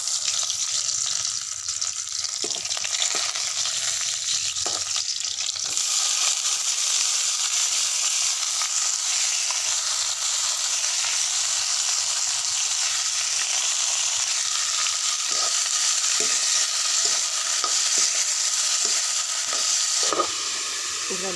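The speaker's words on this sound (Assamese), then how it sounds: "এইফালে মিঠাতেল গৰম হৈছে, এইফালে দি দিওঁ পাঁচফোৰণ দি দিছোঁ, তাৰপিছত দি দিছোঁ পিঁয়াজ।" Onion and panch phoron hit hot mustard oil and burst into a loud, bright sizzle that stays strong and continuous, with brief clatters of stirring and a few faint background noises early on.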